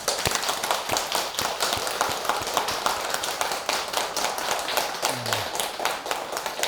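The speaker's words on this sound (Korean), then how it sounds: "부처님 오신 날을 축하하는 축하의 박수를 한번 크게 한번 치기 바랍니다" A temple congregation claps together to celebrate Buddha's Birthday at a Korean dharma service, with rapid, slightly uneven hand claps repeating steadily and fairly close for several seconds.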